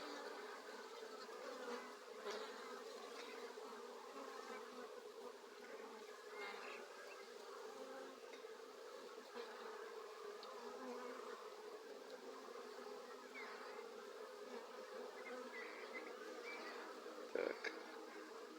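Buckfast honey bees and drones buzzing around a beehive in the early evening, a continuous close, steady hum with a small sharp knock near the end; a voice murmurs faintly at times.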